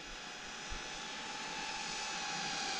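An iFlight Nazgul F4D FPV drone makes a low pass, giving a steady whirring buzz that stays even and fairly strong throughout.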